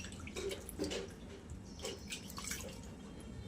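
Mangoes being rinsed in water in a home kitchen, with soft splashes and drips that come and go at a low, close level.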